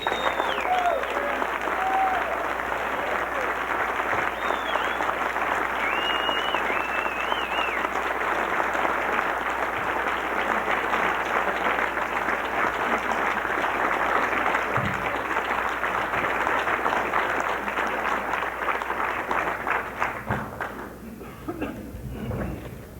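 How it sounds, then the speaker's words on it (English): Sustained, loud audience applause greets country guitarist Jerry Reed as he comes onstage at a live show, steady clapping with a few whoops that tapers off near the end. "Y'all keep clapping, I ain't sit down yet."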